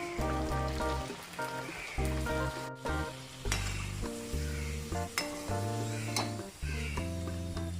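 Samosas fry in hot oil with a steady crackling sizzle, close and continuous, under background music with repeated tones.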